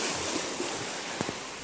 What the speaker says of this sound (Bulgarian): Ето тук виждате ли, вълни има. Доста са вълните,